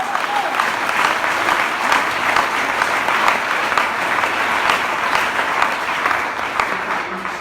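Congregation at a church seminar in Congo applauds to acclaim the Lord, a loud, dense, steady clapping that carries evenly for several seconds before easing slightly at the end.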